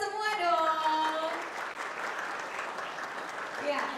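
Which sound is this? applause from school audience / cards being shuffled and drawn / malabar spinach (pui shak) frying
applause from school audience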